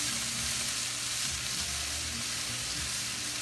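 Onions frying in a pan for a French dip steak sandwich, a loud, steady, close sizzle with faint stirring movement and no voices.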